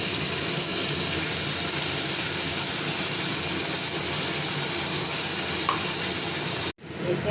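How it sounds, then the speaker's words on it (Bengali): Onion, ginger, garlic, tomato and green chili paste sizzles loudly and steadily in hot oil, a dense continuous frying hiss that cuts off abruptly near the end. "গরম হয়ে গেছে, এবার আমি পেঁয়াজ, আদা, রসুন, টমেটো, কাঁচা লঙ্কা পেস্টটা দিয়ে দেবো"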